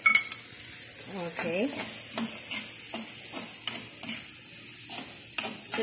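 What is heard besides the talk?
diced garlic sizzling in butter in a pan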